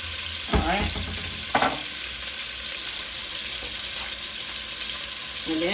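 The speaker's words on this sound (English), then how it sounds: "after it's seared on each side" Beef for a pot roast sears in a hot pan with a steady, close sizzle throughout, broken by a couple of louder spits and scrapes as the meat is shifted.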